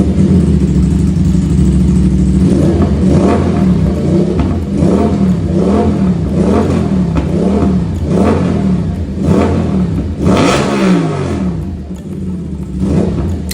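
An Aprilia RS 457 motorcycle fitted with an SC Project exhaust revs repeatedly, loud and close, its engine note rising and falling in a series of throttle blips with no talk.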